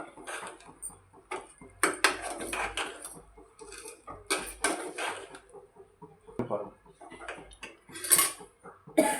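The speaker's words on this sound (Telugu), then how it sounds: "సిమ్లో పెట్టుకొని బాగా కలుపుకోవాలి" Tomato pickle being stirred in a pan over a low flame, with repeated scraping and clinking of a utensil against metal, coming in uneven bursts close by.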